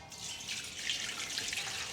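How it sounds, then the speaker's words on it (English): Water pours steadily into a smoker's water pan, a continuous soft splashing rush lasting a couple of seconds with no voices. "Then add the water pan and fill the water pan with water."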